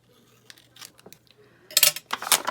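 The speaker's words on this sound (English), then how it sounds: "Get some scissors." Scissors cutting paper for a vintage junk journal, a few quiet snips followed by louder, crisp close-up cutting strokes in quick succession.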